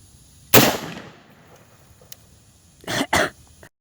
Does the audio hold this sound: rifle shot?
yes